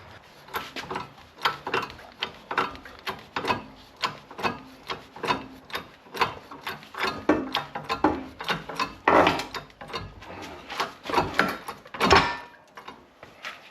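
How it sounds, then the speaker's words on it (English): A workshop press forces a failed wheel bearing out of a BMW E61 xDrive, giving a steady run of sharp ratcheting clicks and creaks, with louder cracking bursts near the end, close and loud with no talking. "this one is the one that's failed, so let's get this under the press"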